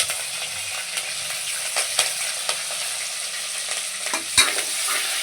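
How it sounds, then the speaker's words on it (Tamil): Onions sizzle and fry in a pan while a spoon stirs them, giving steady hissing with light scraping and tapping strokes. A Tamil home cook is making chicken kuska, with no talk during the frying. "நல்லா அது வதங்கி வச்சு வெங்காயம் போட்டுக்கலாம்."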